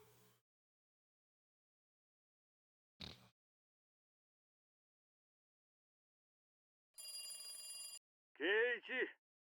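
A telephone bell rings in a short bright burst in the Higurashi game, set among long stretches of near silence and brief clicks, followed immediately by a spoken voice line.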